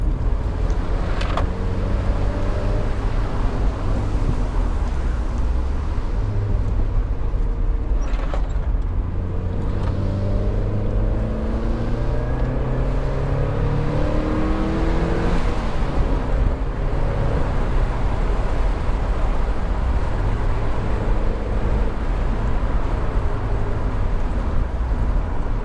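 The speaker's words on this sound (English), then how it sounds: "that was foot to the floor, second and third gear pull" Mazda Miata NB at full throttle, pulling hard through second and third gear with rising and falling engine harmonics across gear changes, loud and continuous with road and wind noise and no talk.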